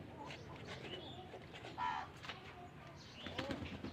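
Domestic pigeons coo softly and intermittently while being held and having their wings coloured, a low murmuring close by, with a brief louder burst near the middle and some rustling of handling throughout.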